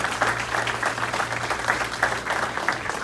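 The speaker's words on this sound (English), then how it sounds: "give yourselves a round of applause for supporting our recipients." Audience at an Elks awards ceremony in Frackville clapping together in steady, dense applause that holds at an even level, with a faint hum underneath.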